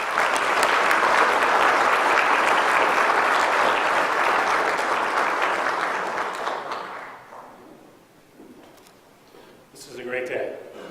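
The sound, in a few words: audience applause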